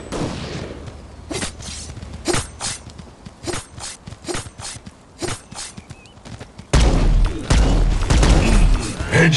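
Gunshots in the mobile shooter Guns of Boom: a series of sharp, separated shots at irregular intervals, then a louder stretch of heavier, denser firing near the end.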